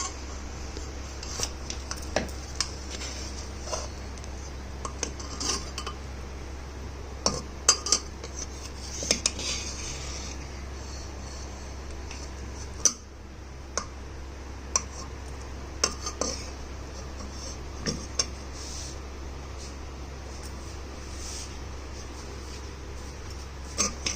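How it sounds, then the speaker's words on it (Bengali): A utensil scrapes and clinks against a pot as cooked rice is mixed. Sparse, soft metallic taps and scrapes sound over a steady low hum. "ভাতটাও খুব সুন্দরভাবে রান্না হয়ে গেছে। এবারে চলো এটা আমি একটু মিশিয়ে নিই।"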